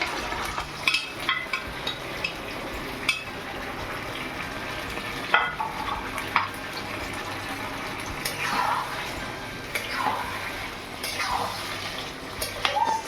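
Marinated chicken for chilli chicken fries in a hot pan with a continuous crackling sizzle, close and fairly loud, broken by occasional sharper pops and scraping stirs throughout.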